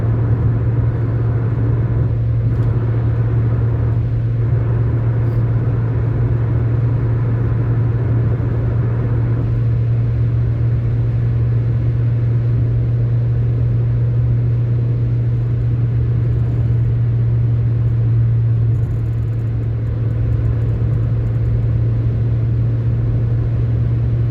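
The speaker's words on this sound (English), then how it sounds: "I'm worried I can't be heard over the tyre noise and the wind noise" Constant loud road rumble and wind rush inside a moving car, a steady low tyre drone with a hum running unbroken for the whole stretch, no voices.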